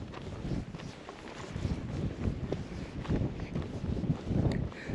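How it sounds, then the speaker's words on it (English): Gusty wind buffeting a microphone outdoors at Jasper Forest in Petrified Forest National Park, a continuous rough rumble rising and falling for the whole stretch. "Gotta fight the wind."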